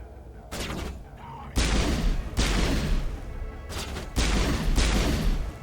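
Rapid gunfire from a shooter firing in Mass Effect Legendary Edition, dense repeated bursts and booms filling the clip with brief pauses between volleys, loud and close.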